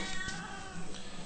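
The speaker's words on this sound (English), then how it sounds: "I gotta feed the cats, hang on." House cats meow for food, a few faint, drawn-out cries in quick succession.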